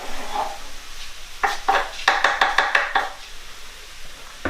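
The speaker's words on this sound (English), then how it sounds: "Just chop it into little bits." A kitchen knife chops food into little bits on a board for a mince stir fry, a quick run of about eight sharp, close taps after a quiet start.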